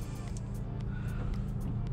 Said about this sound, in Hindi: सो अब ये गाड़ी स्टार्ट हो चुकी है